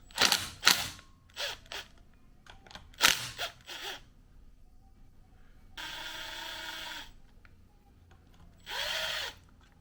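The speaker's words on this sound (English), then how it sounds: "I'm going to see if I can get these cam sprocket bolts loose." Bursts of a power tool working the cam sprocket bolts on a 2004 Honda CRF 150 engine, several short whirring pulses followed by two longer steady runs, close and fairly loud with quiet gaps between.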